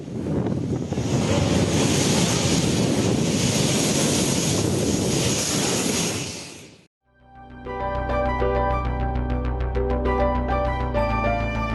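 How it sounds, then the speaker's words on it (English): A storm wave from Storm Harry slams into the coast at Roca Limera with a loud, continuous roar of surf and heavy wind buffeting, which cuts out abruptly and gives way to music. "Storm Harry created a massive wall of water that slammed into the coast of Roca Limera"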